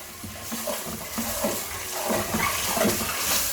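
Ofada stew sizzles as it fries in a pot, with soft wet bubbling and a few stirring scrapes at moderate volume, and no talking.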